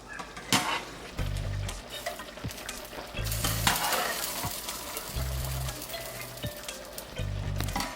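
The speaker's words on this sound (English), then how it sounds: "I'm going to drain them slightly and put them directly into my spaghetti sauce." Drained noodles being stirred into spaghetti sauce in a pan, with a soft sizzle under repeated scraping and clattering strokes, a low thump recurring about every two seconds, and no talking.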